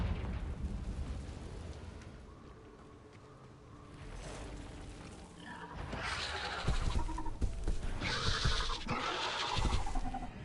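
Confringo blasting spell explosions in Hogwarts Legacy, a low rumbling game soundscape building into loud bursts and crackling blasts, several in quick succession toward the end.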